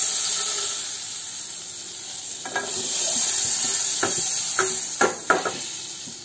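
A spoonful of butter melting in a pan for millet pasta gives a steady close sizzling hiss, broken by a few sharp clicks and scrapes of stirring, with no voices.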